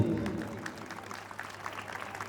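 An audience at a Kendriya Vidyalaya school annual day celebration claps in scattered, moderately faint bursts after a brief low sound at the start.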